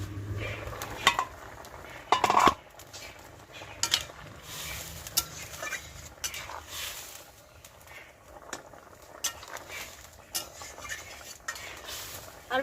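A lid is lifted off a cooking pot during vegetarian cooking, with a few metallic clanks and clatters close by over a low sizzle and some stirring noise.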